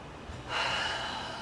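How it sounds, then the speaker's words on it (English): After a sweaty home HIIT upper-body workout, a person takes a deep breath: quiet background, then a soft, breathy exhale that swells at mid-clip and trails off, close and gentle. "One more deep breath."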